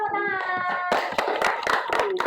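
Students in an Islamic religious education classroom clap their hands together in a burst of applause following a group presentation, a run of sharp hand claps after a brief spoken or sung passage at the start.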